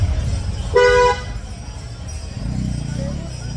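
A short car horn toot sounds over rumbling road traffic near Shaniwar Wada in Pune, followed by the low drone of passing engines.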